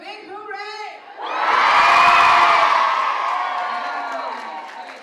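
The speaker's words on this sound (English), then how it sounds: "Now let me hear a big hooray!" Large group of children yelling a loud hooray together, a sustained burst of cheering and whoops that swells and slowly fades, following a brief adult voice.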